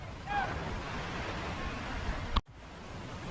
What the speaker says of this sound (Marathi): तुम्ही बघू शकता धबधब्याचं फेसाळणारं पाणी